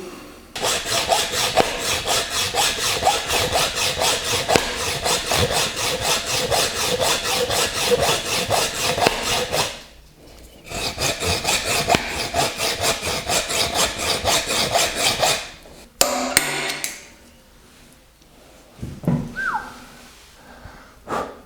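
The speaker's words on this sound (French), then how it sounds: "Donc, là, c'est en avant la scie à métaux" A hacksaw cutting metal on a Peugeot 205 GTI 1.9 engine rasps back and forth in a rapid, steady rhythm, close by, pausing once briefly before continuing, then clattering handling noises follow.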